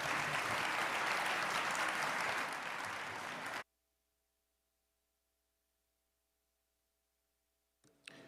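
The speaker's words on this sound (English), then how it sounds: "a big round of applause for Representative Jim Banks and Representative Ken Buck" Audience applause at a conservative political summit session, a dense loud wash of clapping that cuts off abruptly partway through, followed by near silence and a faint sound at the very end.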